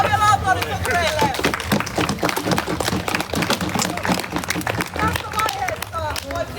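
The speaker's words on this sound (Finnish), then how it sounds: "Jatkakaa vielä aplodit sotureille." A convention audience applauds warriors after a combat show, brisk irregular clapping mixed with crowd chatter and voices throughout, fairly close and lively.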